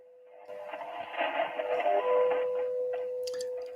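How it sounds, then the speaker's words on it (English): Shortwave radio static received at 5 megahertz while tuned to time station WWV, a steady hiss carrying a faint continuous tone and some clicks, moderately loud with no talking. "A lot of static, obviously."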